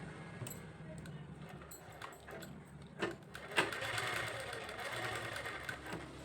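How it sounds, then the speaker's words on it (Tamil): A sewing machine stitches a blouse lining in a quiet, steady mechanical whir, with a few clicks and knocks along the way and a slightly louder run toward the end. "எப்படி தைக்கிறேன்னு பாருங்கள்."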